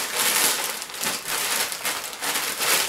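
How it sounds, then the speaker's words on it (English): Plastic bag crinkling steadily while being handled during an unboxing of Airsplat airsoft gear, a close, loud rustle that swells and dips in waves for about three seconds with no talking. "Plastic bag"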